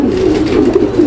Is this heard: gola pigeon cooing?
yes